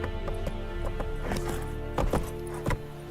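Roach, a horse in The Witcher 3 video game, gallops with repeated clopping hoofbeats at an uneven pace over a steady tonal backdrop, with a couple of louder thuds near the end.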